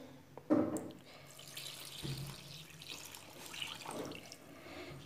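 Warm milk is poured into a pizza dough mixture in a kitchen: a brief splash of liquid, then a soft, continuous trickling pour with faint mixing noises, close by and quiet.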